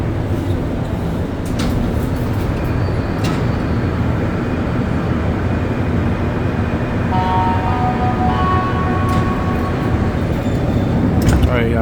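Montréal Métro train riding between Snowdon and LaSalle stations, heard from inside the car: a loud, steady rumble and roar of rubber-tired running with a faint rising whine near the end, people speaking over it.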